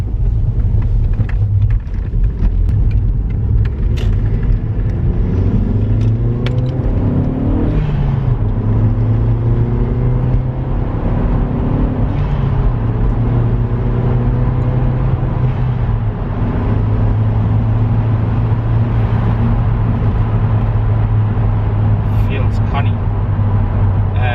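A remapped Mk4 Golf GTI pulls hard down a bypass, the engine note rising and falling through gear changes in a loud, continuous rumble heard from inside the car, with voices talking over it.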